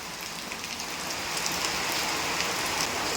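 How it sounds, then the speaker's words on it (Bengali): Steady rain patters on a tin roof, a dense, even hiss of drops close by that swells slightly as it continues. "বৃষ্টি এখনও হালকা পাতলা হয়ে যাচ্ছে"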